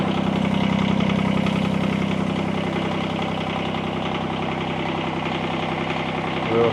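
A Toro Dingo compact utility loader's engine runs with a muffler fitted, a steady, close, mid-pitched idle hum with a slight knocking pulse, fairly loud and even, rising a little at the end.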